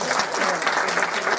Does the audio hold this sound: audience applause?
yes